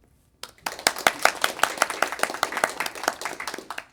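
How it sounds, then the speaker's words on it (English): After a talk ends, a small audience at a training course claps for the lecturer with sharp, distinct, fairly quick hand claps. The clapping starts abruptly after a moment of quiet and continues unevenly with no speech. "I hope you deserved an applause"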